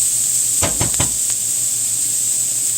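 Food for a spicy Korean BBQ bowl fries in a pan with a loud, steady sizzle, interrupted by a few quick scraping stirs near the start, with no talk.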